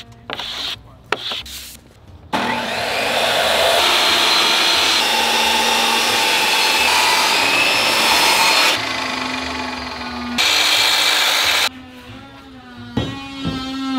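A power tool cuts PVC trim board with a loud, continuous rasping whine for about nine seconds, the pitch dipping slightly midway, framed by short bursts and pauses before and after, with no talking.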